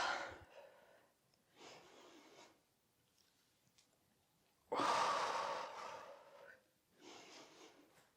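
Heavy breaths during a home resistance-band workout come in several separate bursts, one much louder and longer exhale in the middle, with a quiet voice faintly present between them.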